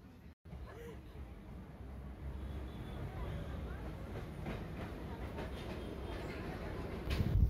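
Train rumbling and clattering into Prinsep Ghat station in Kolkata, a steady moderately loud rolling noise with faint background chatter, swelling louder near the end.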